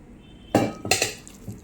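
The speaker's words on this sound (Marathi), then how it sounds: "हळूहळू पाणी घ्यायचं आणि चांगलं मिक्स करायचं" Batter for colocasia-leaf rolls with prawns is mixed with water in a bowl, producing two bursts of clinking, scraping utensil strokes against the dish, then a softer tap. The sounds are close and have no talk.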